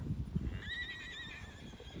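A horse in a field, with a young foal nearby, gives a faint, distant whinny midway through, heard over low background noise and a few soft thuds.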